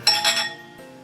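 Drinking glasses clink together in a toast, a couple of quick bright chimes at the start that ring out and fade over about a second.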